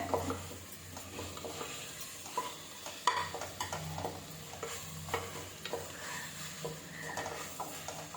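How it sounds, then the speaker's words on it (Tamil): Mushrooms being stirred as they sauté in a pan in a home kitchen, soft repeated scraping and clinking of a utensil over a low sizzle, quiet and close. "ஸோ அதனால் நல்லா வந்து கிளறிக்கிட்டே இருங்க"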